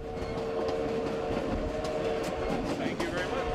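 Scenic train running on rails from Durango to Silverton, a steady rolling rumble with faint rhythmic clatter of wheels continuing at an even level under light background voices.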